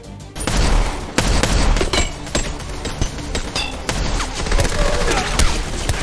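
Rapid gunfire from a film action scene, dense bursts and sharp cracks over a loud, continuous rumble of effects, with a voice faintly mixed in.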